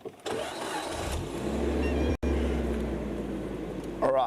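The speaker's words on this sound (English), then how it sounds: "Matthew, something sounds very broken with the car" A car engine with a fault runs with a rough, low grinding rumble, cutting out briefly midway before resuming, with a faint rattle near the end.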